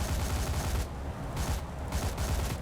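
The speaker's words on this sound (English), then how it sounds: "we're firing 3 of the turrets" Defensive turret guns on a Tu-4 bomber in War Thunder fire in sustained, loud automatic bursts with a dense chattering rhythm, broken by brief gaps between volleys.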